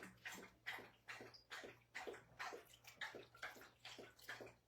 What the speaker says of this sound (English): Thunder's lapping up his water